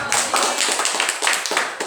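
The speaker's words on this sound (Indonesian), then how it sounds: "Oke, tepuk tangan buat semuanya" An audience at a seminar claps their hands in quick, rhythmic bursts of a dozen or so claps, loud and close, with brief gaps between the rounds.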